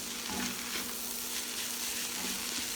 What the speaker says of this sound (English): Stir-fry quickly over high heat, tossing well, so the noodles absorb the seasoning and become fragrant and chewy.